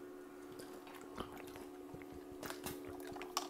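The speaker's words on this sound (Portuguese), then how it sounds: "Estou bebendo um pouco de água." Water is poured and sipped indoors: faint liquid trickles and soft swallowing sounds, very quiet and close, over a low steady background hum.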